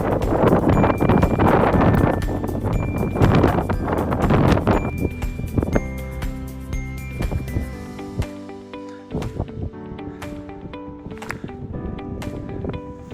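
Strong wind buffets the microphone in loud, rough gusts on a hilltop at Scar Crags in the Lake District, then eases into quieter, uneven bursts of blustery noise.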